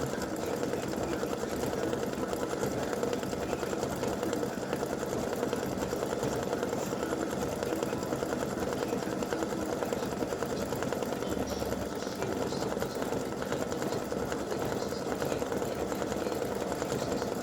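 A sewing machine runs a satin stitch around a bow appliqué on a Santa legs design, whirring steadily and evenly at close range without pause, with no talk over it.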